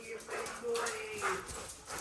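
A puppy whimpers in high, thin whines, a few brief cries mixed with excited voices talking nearby.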